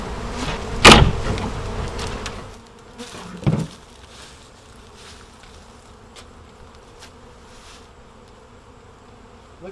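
Honey bees buzz around a comb during a hive relocation. A steady, dense drone fills the scene, broken by two louder close passes, one sharp and one shorter, before settling into a quieter continuous hum.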